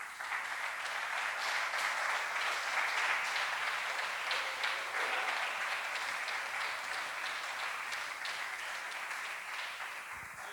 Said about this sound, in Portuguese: Então aplauda ele para tomar água